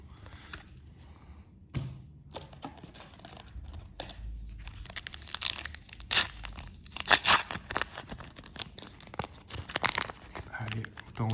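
Panini FC football card packets are torn open by hand, with crinkling foil rips and crackles bursting irregularly at close range, fairly quiet overall, with occasional soft talk.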